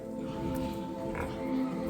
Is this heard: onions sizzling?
no